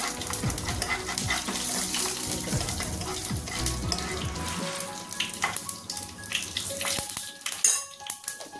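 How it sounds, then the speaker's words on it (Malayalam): White sesame seeds crackle and sizzle in hot oil for tomato chutney, with clinking utensil scrapes against the pan, close up, quieter popping and clanks toward the end. "ഒരു സ്പൂൺ വെള്ള എള്ള് ഇട്ട് കൊടുക്കുന്നുണ്ട്"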